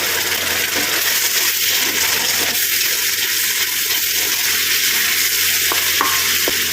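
Spice paste sizzling steadily in a pan after a splash of water rinsed from the spice bowl, loud continuous frying hiss with a few faint clinks near the end.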